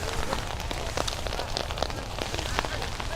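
Steady rain falls throughout a high school soccer game, a dense continuous patter and hiss with scattered louder drops, heard on its own without clear talk.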